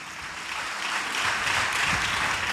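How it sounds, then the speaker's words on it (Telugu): A church congregation at a Good Friday worship service claps together in a dense, steady wash of applause that holds at a fairly loud level and carries no speech. "చప్పట్లు కొట్టండి అందరూ గట్టిగా."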